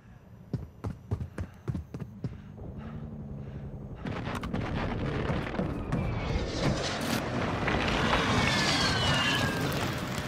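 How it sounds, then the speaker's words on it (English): Airstrike explosions in the battle royale game Call of Duty Warzone: a string of sharp, separate blasts opens, then gives way to a loud, continuous roar of rumbling impacts and debris. "Friendly airstrike in the AO."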